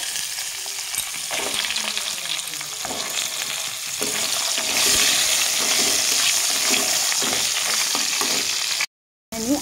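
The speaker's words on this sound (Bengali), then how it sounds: "আমি পটলগুলো ভেজে নেব।" Pointed gourd (potol) pieces fry steadily in hot oil with bay leaf and nigella seeds, a loud, continuous sizzle with occasional stirring scrapes, no voices, cut off abruptly just before the end.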